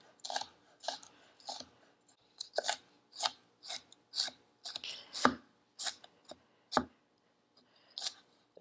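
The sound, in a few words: fresh parsley being minced finely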